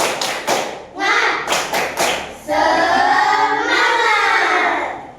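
A classroom group of pupils performs a rhythmic 'tepuk semangat' clapping chant: several loud, evenly spaced clap bursts, then a sustained stretch of voices chanting together close by.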